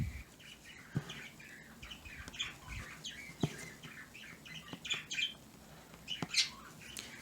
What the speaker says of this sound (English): I don't know what's going on in that bird cage over there,